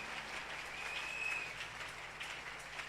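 A church congregation clapping together in acclamation, a dense, even wash of applause, fairly distant and steady throughout.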